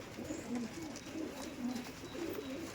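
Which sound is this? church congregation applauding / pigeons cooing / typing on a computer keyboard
pigeons cooing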